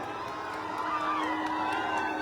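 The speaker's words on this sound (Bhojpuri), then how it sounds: "जोरदार तालियां सुपरस्टार खेसारी लाल यादव और सुपरस्टार मोनू अलबेला।" A crowd cheers and shouts at a Bhojpuri stage show in Jharsuguda, Odisha, a continuous roar with whoops rising and falling, fairly distant and reverberant, with no clear applause claps standing out.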